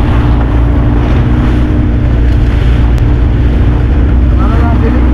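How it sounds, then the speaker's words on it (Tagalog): Stormy wind and waves on the water during a typhoon, a loud continuous roar of gusts buffeting the microphone with surging surf, a boat engine droning underneath. "Gawa ng bagyo ay. Grabe naman ang bagyo,"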